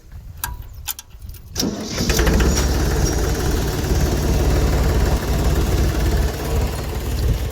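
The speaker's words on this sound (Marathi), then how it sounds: "पहिले तर ट्रॅक्टर 2 मिनटं चालू ठेवू" A farm tractor starts after a few light metallic clicks and then settles into a loud, steady, rumbling idle that carries on without a break and with no talk.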